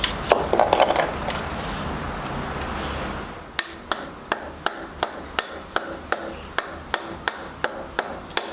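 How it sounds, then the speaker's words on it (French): A folding knife is struck repeatedly while batoning wood, giving sharp, regular woody knocks roughly twice a second. A rougher, noisier stretch comes before the knocks. "il est extrêmement mauvais de faire du bâtonnage avec des couteaux pliants"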